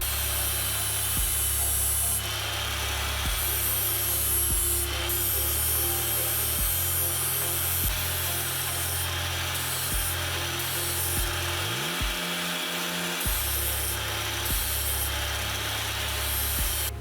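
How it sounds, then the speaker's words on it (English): An angle grinder fitted with a flat wheel works the casting line off an engine connecting rod, giving a continuous loud grinding rush over a steady electrical hum with faint periodic ticks. "It's just a flat wheel and a grinder just to take off 2 grams of material and try to get them all the same weight."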